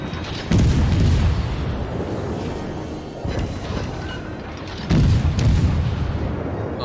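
Naval gunfire from a Soviet tier I cruiser Orlan in World of Warships: three heavy booming salvos at roughly two-second intervals, each a loud blast that rolls off into a rumbling tail.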